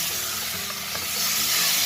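Marinated local chicken frying in a pan with onion and spices, a loud, steady, dense sizzle close up with faint stirring scrapes and no talking.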